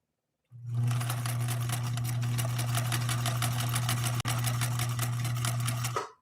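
A sewing machine runs steadily through eight layers of heavy-grade denim with its upper tension adjusted, a loud, continuous rapid stitching hum that starts abruptly, carries on with one tiny hitch near the end, and then stops.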